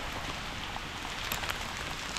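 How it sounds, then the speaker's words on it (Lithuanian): Hail falling outdoors in snowy weather during a mushroom-picking and fishing outing, a dense, steady patter of small ice pellets striking the ground and surfaces, continuous and even in loudness with no voices. "Gerai, kad ledukais, ne lietus, ne taip bjauru."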